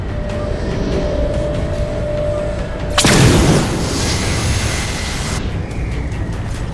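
In the Halo 4 video game, explosions strike the Mammoth vehicle: one heavy, loud blast bursts out partway through over the game's steady rumbling background noise. No one speaks.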